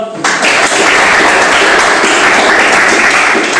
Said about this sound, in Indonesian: beri aplaus pada Mas Ridho